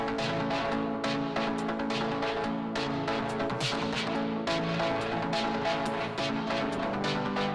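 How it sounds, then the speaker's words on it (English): A drum loop run through Ableton resonators rings out as pitched, chord-like tones, each hit sounding a sustained harmonic chord in a steady, dense rhythm, fairly loud and with no voices. "putting the drum loop I had created earlier through a couple things in Ableton they call resonators"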